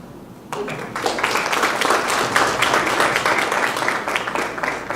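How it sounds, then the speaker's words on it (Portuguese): A seminar audience on occupational health breaks into applause for two study presenters, dense clapping starting abruptly after a brief quiet moment and continuing steadily at close range for several seconds. "Boas palmas para as duas."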